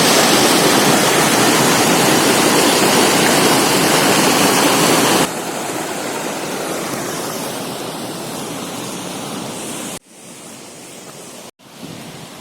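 Water pours down at the Rani Dah waterfall in Jashpur, Chhattisgarh as a loud, steady roaring rush that drops to a softer level partway, then cuts abruptly.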